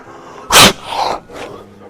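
A teacher's fake sneeze, a person imitating a sneeze: one sharp, loud, close burst, followed by a softer breathy trailing sound and a faint tail.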